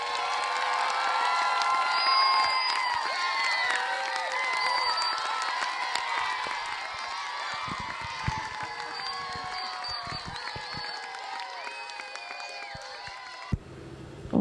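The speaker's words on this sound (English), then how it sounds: "Let's give them a round of applause." Students in a hall applaud and cheer with high-pitched shouts and whoops, a lively crowd roar that slowly winds down to a few lingering voices.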